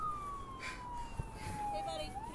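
A police car siren wails in a slow, falling sweep at moderate distance, fairly faint, with a brief thump partway through and no speech.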